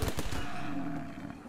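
Rapid gunfire from colonists in the game RimWorld rattles off in a quick burst of closely spaced shots at a herd of muffalo, loud at first and then trailing away into a fading rumble.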